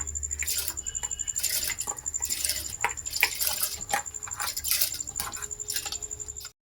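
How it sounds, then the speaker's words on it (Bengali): Rice boiling hard in a pot of hot water for restaurant-style mixed fried rice. A steady, close bubbling and gurgling runs throughout with irregular small pops and spatters. "চালটা ফুটছে"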